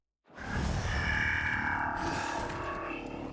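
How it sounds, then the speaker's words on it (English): An enemy in Final Fantasy XVI lets out a death cry, a sudden ringing, metallic wail that swells in and hangs for about three seconds before slowly fading, heard alone. "Oh, that's a cool death noise."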